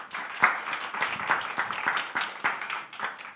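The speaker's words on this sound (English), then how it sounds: "A round of applause for Dr." Modest audience applause at a medical centre talk on lung cancer care, a steady patter of many hands clapping at moderate distance, fairly even through the short stretch.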